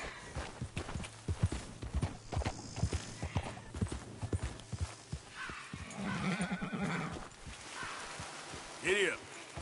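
Horse hooves clip-clop steadily in the video game Red Dead Redemption 2, with a horse neighing and whinnying near the end, while a person talks over much of it.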